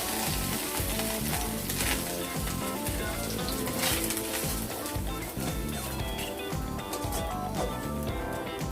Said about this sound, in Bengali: মাছগুলো সব ভাজা হয়ে গেল